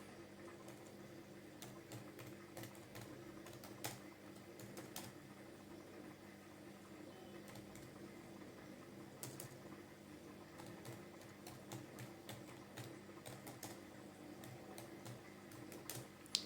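Keys tapped on a computer keyboard while words are written out, a steady run of soft, quiet clicks over a low background hum, with no one talking.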